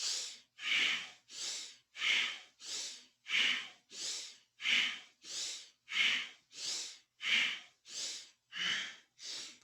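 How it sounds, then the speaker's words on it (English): Rhythmic nasal breathing during a kundalini yoga class, about fifteen strong, evenly spaced breaths in close succession, each a loud rushing sniff through the nose with no talking. "Again, all the breathing is through the nose."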